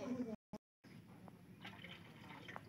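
Water is poured into a cooking pan for sweetened bananas, a soft continuous liquid fill heard close after a brief silence.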